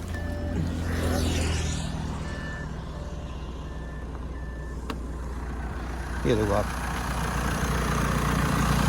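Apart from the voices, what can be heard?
Audi A6 2.0 TDI engine running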